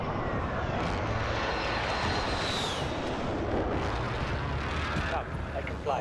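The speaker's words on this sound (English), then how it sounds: "We gotta jump in this helicopter and go." Helicopter lifting off in a video game, a loud steady rotor and engine roar filling the whole scene with a rising whine, no pauses throughout.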